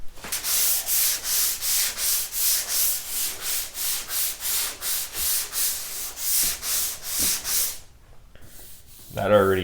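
Rhythmic back-and-forth sanding strokes across etching and filler primer on a damaged car roof, about seventeen even rasping passes, close and loud, ending in a brief pause and a short rustle.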